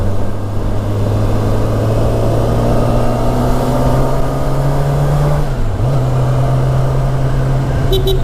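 A Kawasaki ZX10R motorcycle riding with the helmet visor closed: a steady, loud engine drone with a constant low tone and wind rush throughout, the engine pitch dipping briefly near the end before holding steady again.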